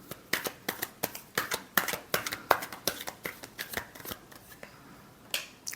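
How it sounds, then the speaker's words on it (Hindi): Tarot cards are shuffled by hand in a rapid series of crisp riffling snaps and flutters, close and fairly quiet, with brief pauses between bursts. "Last shuffle."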